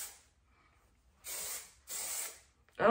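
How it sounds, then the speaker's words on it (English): Two short bursts of hairspray misting onto curled hair, close and fairly quiet, separated by a pause, with a faint breathy rustle at the end. "hairspray them."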